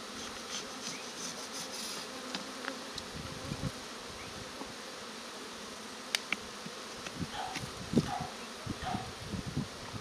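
Honey bees buzzing around an open beehive colony during queen rearing, a dense steady hum close by with occasional louder individual bees passing and light handling clicks from the hive, no talking.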